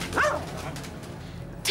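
A dog gives a short whining bark, then a brief pause before another sharp yap at the end, close and fairly loud.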